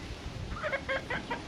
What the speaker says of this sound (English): And here's the beautiful chickens over here.